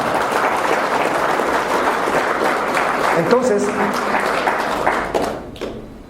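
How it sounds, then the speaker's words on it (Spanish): A church congregation applauds hard during a sermon, a thick wash of clapping that holds for about five seconds and then fades away as a preacher's voice begins speaking. "denle más fuerte ese aplauso al Señor Jesús"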